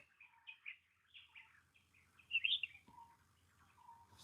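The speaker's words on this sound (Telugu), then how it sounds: "మా బ్యాక్గ్రౌండ్లో కూడా పక్షుల సౌండ్ బాగా వినిపిస్తుంది ఒకసారి వినండి" Birds chirp and call in short, repeated bursts on a quiet hilltop, with one louder trill in the middle, clear but slightly distant and with no talking.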